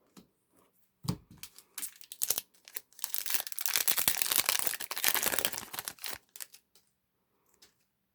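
Empty foil trading card pack wrappers from an Arcane Rising Flesh and Blood box being crinkled and crumpled by hand, close and busy, in irregular bursts that swell to a dense middle stretch before fading out.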